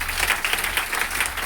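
An audience at a gathering about a factory and business training claps together, a fairly loud, busy patter of hands with quick irregular bursts over a low hum, lasting briefly.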